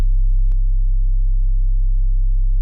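Deep sub bass synth built in Serum 2 within Ableton, a steady, loud, near-pure low hum that holds constant throughout with a brief click near the start and no other sound.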